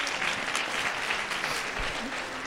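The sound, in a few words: audience applause for the doctor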